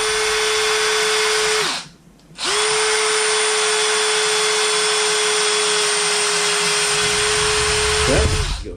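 A power drill whines at a steady pitch as its bit bores through a lead fishing sinker, stopping briefly and then restarting, with a sharper grinding burst near the end.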